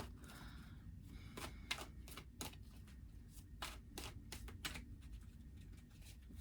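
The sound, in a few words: tarot cards being shuffled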